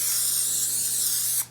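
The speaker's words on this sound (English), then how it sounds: "I'm actually gonna spray my hands too. I find that I prefer the spray over flour." Sustained hiss of a spray bottle misting hands in a home kitchen, a steady close spray lasting over a second before cutting off abruptly.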